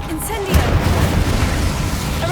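Casting the Incendio fire spell in Hogwarts Legacy sets off a loud, dense booming roar of flame that bursts in early and rumbles steadily to the end of the moment.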